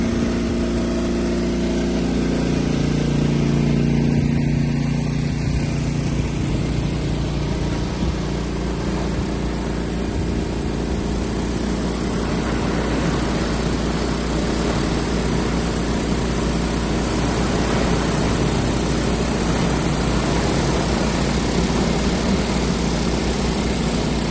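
A steady, loud droning whir of an agricultural drone's spinning propellers, seeding cover crop, runs continuously and close by, with a low engine-like hum underneath.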